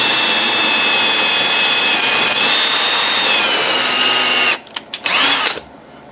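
Power drill boring into a seized brake bleeder screw: a loud, continuous high whine for about four and a half seconds, then it cuts out, followed by two brief bursts and a short final run.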